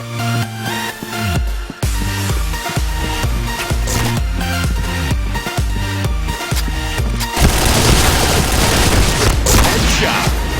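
Rapid booming bursts of grenade blasts and gunfire in the shooter game Point Blank, loud and continuous over a driving music bed, with a denser roar of explosions near the end.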